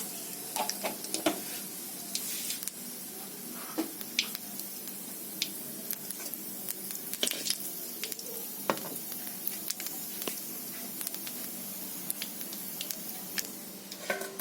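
Nigella seeds frying in hot mustard-style oil for a fish curry: a steady, soft sizzle with scattered little pops and crackles spread over the whole stretch, moderately close, with no voices.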